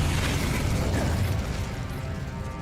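In the Hogwarts Legacy video game, an Incendio fire spell bursts out with a loud, dense roaring whoosh that fills the whole moment and tails off slightly toward the end, with no talk over it.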